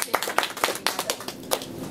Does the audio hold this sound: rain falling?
no